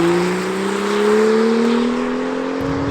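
Sports car engine, from a BMW M2 vs Ford Mustang GT comparison, revving steadily with a smooth rising pitch while driving through bends, loud and close, with no talking.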